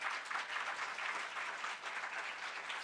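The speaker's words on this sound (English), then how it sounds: "Please give them a round of applause." Audience applause for the organizers of a Sundance Institute panel on decolonization, a brief, steady patter of many hands clapping at moderate distance, alone with no voices.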